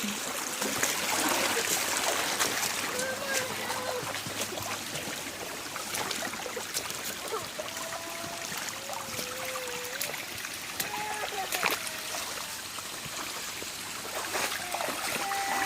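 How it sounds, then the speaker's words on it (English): Rushing water from a small stream and waterfall pours steadily throughout, a constant broadband wash with bubbling trickles on top. "Here's another little waterfall."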